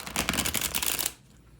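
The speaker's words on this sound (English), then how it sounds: "So just give it a little shuffle." Divination cards being shuffled by hand, a dense riffling flutter lasting about a second before stopping abruptly, close and fairly quiet.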